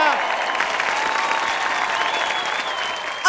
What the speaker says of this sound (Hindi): थैंक यू बाईचुंग के लिए जोरदार तालियां।